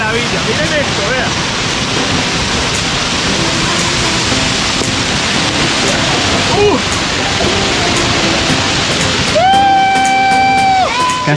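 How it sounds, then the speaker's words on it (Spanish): Cascada La Pola near Armenia, Colombia, a waterfall roaring as a steady, loud broadband rush throughout, with a brief whistle-like tone near the end. "Esta caída de agua."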